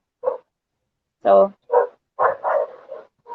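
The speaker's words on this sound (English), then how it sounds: "Sorry about the dogs." Dogs bark in short, sharp yips and barks during a Philippine podcast about mask wearing, with about six bursts in quick succession and a person speaking briefly between them.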